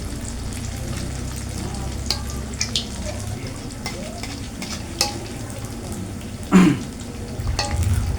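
Steady sizzling of kue cucur batter frying in hot oil, with a few sharp clinks and scrapes of a utensil against a pan.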